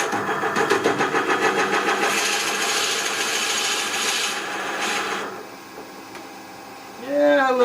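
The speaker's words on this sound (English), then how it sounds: "I'm only going to drill in about 1/8 of an inch" A drill with a 1-inch bit whirs steadily into wood with a rough, grinding rasp, then winds down and stops, followed by a short burst of nearby speech.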